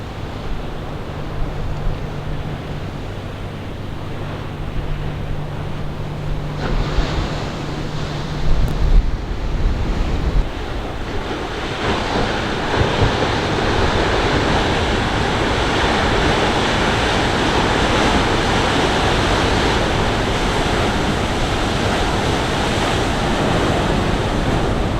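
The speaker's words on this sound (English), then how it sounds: "Down by Depoe Bay where the waves are breaking" Ocean waves breaking on the shore at Depoe Bay, Oregon coast, in 2025, a steady broad roar of surf with wind noise, loud and continuous throughout with no talking.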